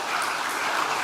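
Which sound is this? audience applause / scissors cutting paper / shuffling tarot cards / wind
audience applause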